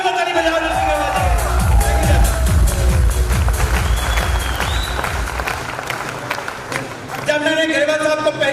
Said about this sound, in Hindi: एक बार जोर ताली बजाओ नरसिंह गढ़वाल जी